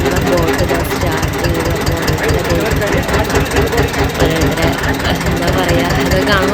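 Boat engine running steadily on the river at Varanasi, a loud, continuous rumbling drone with a regular throbbing pulse, close by, filling the whole stretch.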